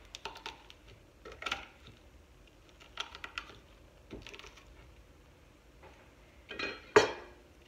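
Three garlic cloves are smashed on a board, a series of soft sharp knocks and taps spread out over several seconds, ending with one louder thud.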